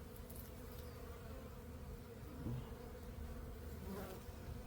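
Honeybees at a backyard apiary hive buzz in a dense, continuous drone, close and steady, with swells of louder buzzing as bees move about.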